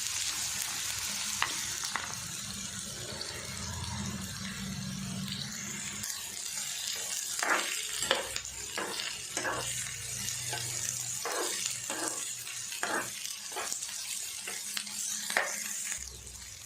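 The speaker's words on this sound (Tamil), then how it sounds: "அதை இதில் சேர்த்துட்டு வெங்காயத்தை நல்லா வதக்கிட்டுக்கலாம்" Sliced onions, three large ones, sizzle steadily in hot oil in a home kitchen, with spoon strokes clattering against the pan in a quick, uneven rhythm through the second half; close and fairly loud, with no voices.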